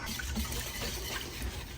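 Cooked beans and their liquid poured back into a cooking pot for a one-pot family meal, a continuous wet splashing pour heard up close with no talk.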